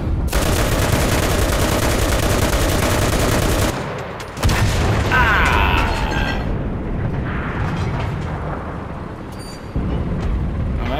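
Dense, continuous gunfire from the WWII shooter Enlisted, Saint-Lo invasion battle, loud and sustained with a brief gap midway and rattling bursts layered over heavy booms.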